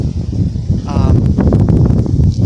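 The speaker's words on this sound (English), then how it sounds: "It's pretty windy out here, so I'm sorry if the audio is not the greatest." Steady wind rushes across the microphone outdoors, a continuous low rumble with gusty buffeting throughout.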